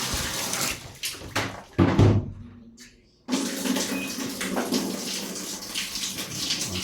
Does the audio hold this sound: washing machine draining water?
yes